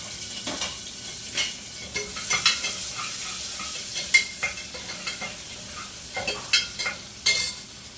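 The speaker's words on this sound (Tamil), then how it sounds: "அடுத்தது கடுகு பொரிச்சிருச்சு, ஆனியனை சேர்த்துக்கலாம்" Chopped onion drops into hot oil after mustard seeds have spluttered, giving a steady frying sizzle broken by repeated scrapes and clinks of a spoon stirring in the pan, close by with no talking.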